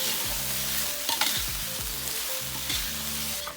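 Shrimp paste, chili and prawns stir-fry in hot oil, a close, continuous sizzle punctuated by rhythmic scraping strokes of a spatula against the pan, with no voices.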